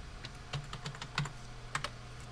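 Quiet typing on a computer keyboard while entering a spreadsheet function in Excel 2010, with irregular clusters of light key clicks at close range.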